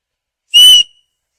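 A single loud, shrill whistle blast lasting about a third of a second, clean and alone against silence.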